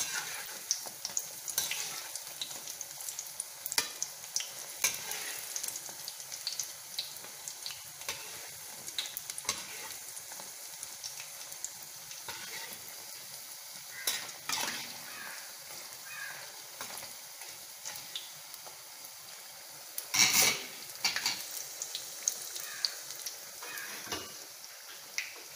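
Thenmittai sweets sizzle and bubble steadily in hot frying oil while a utensil stirs and taps the pan now and then, a continuous close crackle with occasional sharper knocks and no talking.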